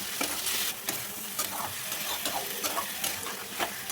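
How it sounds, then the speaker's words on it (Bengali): Fish curry spice paste with salt and chili powder sizzling in a pan while being stirred and scraped by hand, steady frying hiss with repeated sharp utensil taps against the pan, close by and without talk. "দিয়ে এবার দিয়ে দেবো লবণ, লঙ্কার গুঁড়ো দিয়ে এবার এটাকে কষাবো।"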